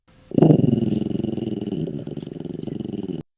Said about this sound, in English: The dog is growling.